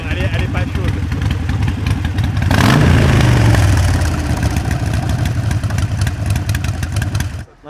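A Harley-Davidson motorcycle engine idling low and lumpy with a steady uneven rhythm, briefly swelling as if blipped, close and loud, then cutting off at the end.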